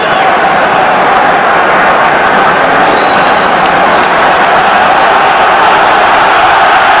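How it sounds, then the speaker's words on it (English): A large rugby crowd at an Ireland v England match in 2007 roars steadily to lift the Irish side, a dense, sustained wall of cheering and clapping that stays loud and even throughout. "Here the crowd trying to pick Ireland up."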